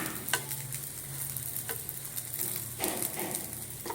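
Kulcha flatbread sizzles steadily in a pan with butter, a soft, close frying hiss punctuated by a few scraping stirs and light clicks.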